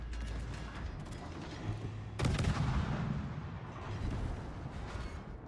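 Naval guns booming in World of Warships, a dense rumble of artillery salvos with a sharp louder burst midway, continuous heavy firing throughout.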